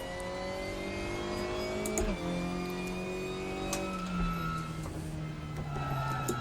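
An Opel Astra race car in the RaceRoom sim racing game revs its engine steadily, the pitch climbing and dropping with gear changes, a continuous close mechanical drone with no talking.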